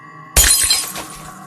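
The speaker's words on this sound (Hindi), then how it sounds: "एक जोरदार धमाके के साथ कांच के परखचे उड़ गए।" A sudden loud crash of a roadside diner's glass window shattering under a heavy bench, followed by a bright spray of tinkling shards that fades over a second.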